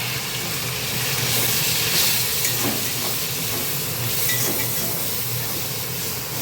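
Garlic, green chilli and onion paste sizzles in hot oil in a pan with salt and turmeric, a steady loud hiss that continues without a break, close up and with no talk over it.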